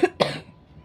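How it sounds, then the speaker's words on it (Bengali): A single sharp cough from someone with a cold and sore throat, loud and close, with a smaller catch of breath just before it and quiet room tone after. "কাশিটা মনে হচ্ছে আরও বেশি এরকম"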